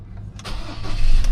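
A Ford Ranger T6 pickup truck diesel engine cranks and catches, its low rumble building steadily as it settles into a running idle.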